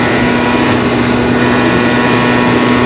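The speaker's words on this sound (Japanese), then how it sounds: "マフラーの音でした" An early-model Honda Live Dio ZX scooter runs with its muffler droning steadily and loudly up close, a constant buzzing engine note with a sustained tonal hum and no speech.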